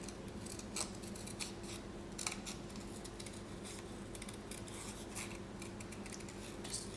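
Scissors snip paper repeatedly in quick, irregular crisp strokes, cutting around an image, close and fairly quiet, over a low steady background hum.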